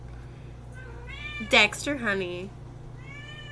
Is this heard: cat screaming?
yes